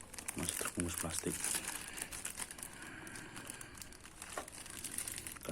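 Plastic wrapping crinkles around a boxed bootleg Spider-Man figure during an unboxing, with dense crackling rustles running throughout and talk partly overlapping it.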